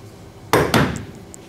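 Coffee grounds knocked out of an E65/E80 grinder: two sharp, close knocks in quick succession with a brief metallic ring after them, then near silence.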